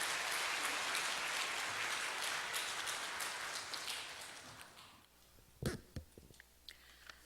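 A church congregation claps for a speaker coming forward at a Sunday service, broad steady applause filling the room for about five seconds before fading out, leaving a few scattered coughs and small noises.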